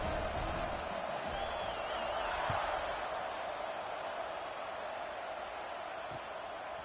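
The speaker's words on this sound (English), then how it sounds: "this crowd is buzzing after that last score" A football stadium crowd buzzes after a score, a broad, steady murmur of many distant voices with an occasional faint whoop rising out of it.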